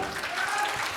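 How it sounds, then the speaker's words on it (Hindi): A short burst of steady group applause from a room of trainees at a training session, fairly faint and distant-sounding. "ताली बजा दो जोरदार"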